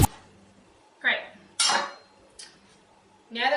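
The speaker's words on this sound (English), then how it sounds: "You can put the rest of the cabbage aside and then chop this up." Red cabbage chopped with a knife on a cutting board, a few separate broadband chops and scraping bursts spaced apart, with a brief spoken word in between.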